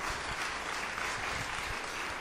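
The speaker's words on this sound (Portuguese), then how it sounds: "Vamos dar um forte aplauso" Church congregation clapping hands together, a dense, even burst of applause filling the room throughout.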